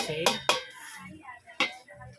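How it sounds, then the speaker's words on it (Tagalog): Metal lid clattering onto a cooking pot of mung beans with shrimp, three sharp clanks in quick sequence, two close together then one more, with faint clinks and bubbling in between. "Takpan muna natin para maluto"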